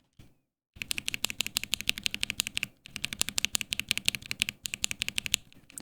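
Rapid, crisp typing on a mechanical keyboard with lavender tactile switches, close and clicky, in two bursts separated by short pauses, with no talk.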